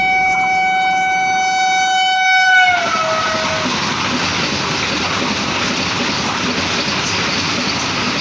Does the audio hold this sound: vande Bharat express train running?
yes